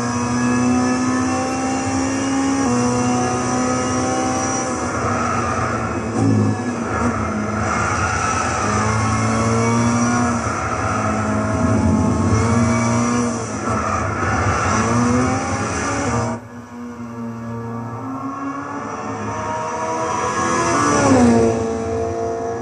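Amuse S2000 GT1 Turbo race car in Gran Turismo 6 at Silverstone, its turbo engine droning loud and steady with rising pitch, quick smooth gear shifts, and a brief drop near the end before revving up again.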